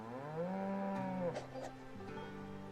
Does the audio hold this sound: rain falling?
no